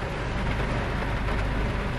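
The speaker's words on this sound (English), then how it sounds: "It is pouring rain now." Heavy rain pours steadily on a rainy evening in Palm Beach, a dense continuous wash of noise with no breaks, heard from close by and alone without talk.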